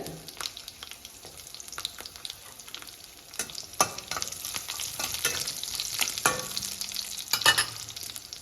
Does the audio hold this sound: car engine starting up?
no